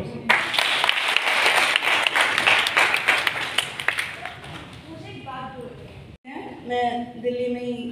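Loud clapping from an audience at an International Women's Day award-giving ceremony in Delhi, a dense burst of applause lasting several seconds before fading as a voice begins speaking over the tail end.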